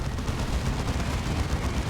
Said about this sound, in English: And those Purgation Side Cannons, the deafening roar.